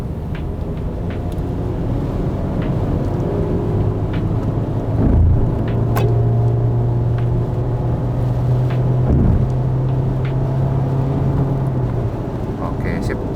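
Honda HR-V with about 80,000 km after an engine overhaul accelerating on a test drive, a steady low engine drone rising in pitch through the gears, heard from inside the cabin.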